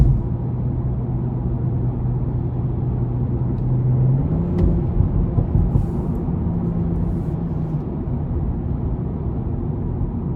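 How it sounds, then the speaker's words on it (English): A 2020 BMW M340i accelerates hard from inside the cabin, its engine rumbling low and steady, with the pitch stepping up through gear changes over ten seconds and no talk. "I mean, just incredible acceleration."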